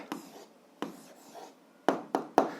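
A pen scratches on paper as an algebra answer is written by hand, in short soft strokes with pauses, the last few taps sharper and closer together.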